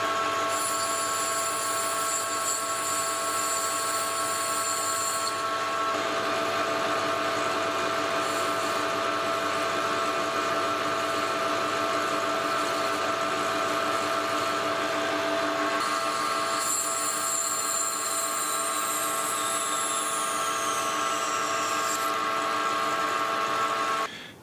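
A metal lathe parts off a turned part during repair work on a milling machine's variable speed head, producing a loud, continuous tonal whine with piercing high squeals that shift and bend before the cut stops.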